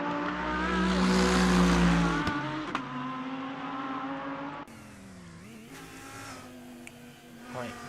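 A Lamborghini Huracan GT3 race car in a racing game at Fuji, engine droning and revving with rising and falling pitch, plus shifts and a brief tire scrub, steady and close with faint talk beneath.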